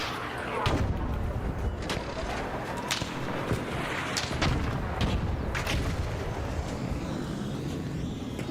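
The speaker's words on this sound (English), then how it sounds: "I threw 2-seeker grenades at it." Seeker grenade blasts in the ARC Raiders video game: sharp, repeated explosive cracks and booms cut through dense, continuous combat noise, with a voice faintly under the din.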